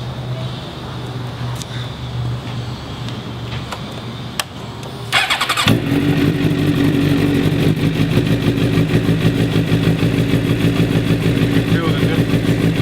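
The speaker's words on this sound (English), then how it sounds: "we're going to go ahead and turn on the motorcycle so we can feel the difference in the vibration and hear the" A motorcycle engine treated with NMF friction reducer cranks and catches after about five seconds, then settles into a steady, close idle with a regular pulsing beat; a person talks before and over it.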